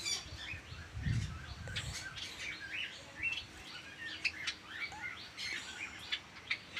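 Java sparrows, Bengalese finches and Australian doves chirp together in an aviary, with many overlapping high tweets and calls throughout, plus a brief low thump near the start.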